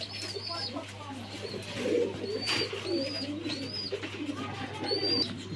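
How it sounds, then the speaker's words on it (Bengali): A pair of ice checker Damascene pigeons coos repeatedly at a pigeon farm in Mirpur, Dhaka. The soft, rolling calls come close and clear over a steady low hum, with a few thin chirps from other birds. "খুব সুন্দর কালারের ভিতরে এক জোড়া দামাসিল কবুতর দেখতে পাচ্ছেন।"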